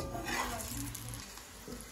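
Katlama, a layered flatbread, sizzles steadily as it fries in a pan on a gas stove in a village kitchen, a soft continuous crackle heard up close.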